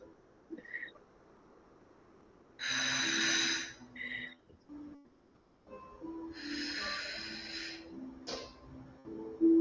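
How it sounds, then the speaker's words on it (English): Short, forceful breathy exhales during a gentle postpartum core yoga exercise come in separate bursts, some longer and hissing, some clipped, close to the mic against quiet background, with no spoken words. "Try those little exhales."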